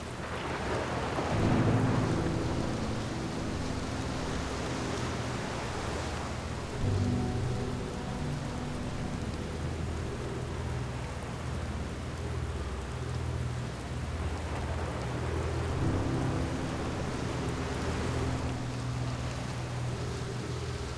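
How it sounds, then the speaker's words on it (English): A thunderstorm in the video game Outer Wilds: steady heavy rain on surfaces with rolling, rumbling thunder swelling several times, loud and continuous with no talking. "I think I have a storm incoming,"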